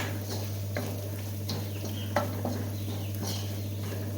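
Crushed cashews fry with onions in a pan while cooking a mushroom curry, giving a steady low sizzle with occasional soft stirring scrapes and light clicks against a constant background hum.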